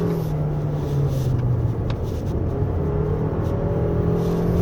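A 2023 Toyota RAV4 Hybrid AWD engine revs steadily as the car accelerates along a winding road, a continuous close, loud drone with a rising whine beneath it and no voices.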